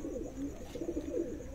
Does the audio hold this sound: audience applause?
no